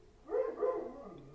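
A big dog gives a short low bark or two at a moderate distance, a gruff double burst that trails off into a quiet whine.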